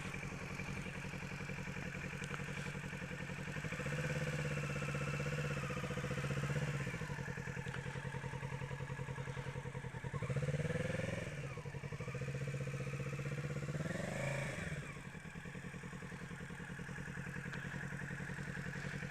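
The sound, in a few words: motorcycle engine during slow U-turn practice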